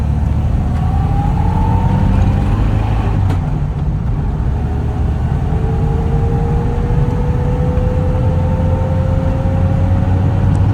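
1968 Karmann Ghia autostick engine idling roughly with an unhappy carburetor after sitting unused: a loud, close, steady low rumble with a faint wavering whine above it and a brief sharp click early on.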